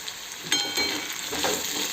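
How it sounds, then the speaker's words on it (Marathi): Onions and tomatoes frying in hot oil for egg bhurji, a loud, close, continuous sizzle with a sudden surge as the tomatoes hit the pan. "आता आपण याच्यात टमाटर टाकणार आहे टमाटरला पण छान होऊ द्यायचे आहे तेलात"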